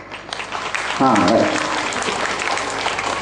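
A large outdoor comedy-show audience in Mysore breaks into clapping, a broad steady wash of applause that swells and carries on under a voice.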